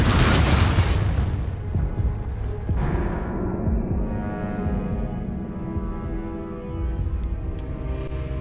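Confringo blasting spell from the video game Hogwarts Legacy, a loud booming burst that rolls into a long, fading rumbling tail, with no talk over it.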